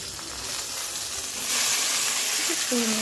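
A hilsa fish head fries in a pan, giving a steady sizzling hiss that swells louder halfway through, with a faint tonal sound near the end.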